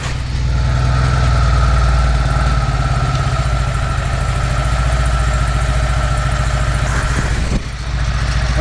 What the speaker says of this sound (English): That's how you would expect a 2CV to tick over.